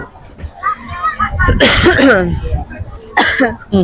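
A sharp cough bursts out amid casual chatter, with people talking before and after it.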